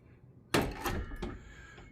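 Wardrobe doors in an MGM Grand Las Vegas hotel suite swing open with a sudden loud thud and rattle, then a softer knock and a fading rustle. Close, with no talking.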